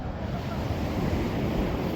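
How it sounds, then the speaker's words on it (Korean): Sea waves wash onto a beach near a fishing harbor, a steady broadband roar mixed with gusty wind buffeting the microphone, no voices. "파도"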